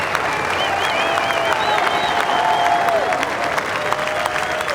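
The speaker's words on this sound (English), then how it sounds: "he's hearing it from this Oakmont crowd right now" Oakmont gallery at the 2007 U.S. Open applauding steadily, a dense continuous wash of clapping with some cheering, sustained and fairly loud throughout.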